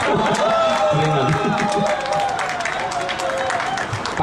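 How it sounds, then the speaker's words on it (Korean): An audience at an outdoor candlelight rally claps and murmurs in a dense, sustained wash, with a held tone running over the crowd noise. "박수 치시면 안 돼요"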